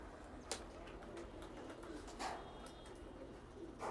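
A pair of pigeons, male and female, coo faintly with low soft murmurs over a quiet background, along with a few brief rustles and light clicks nearby.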